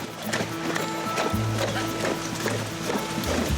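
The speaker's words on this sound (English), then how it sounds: "It's a great discipline for the horses to teach them to travel confidently through the water." Horses trot through a shallow Dorset river less than two feet deep, their hooves making steady, busy splashing and clopping, loud and close, with little talk.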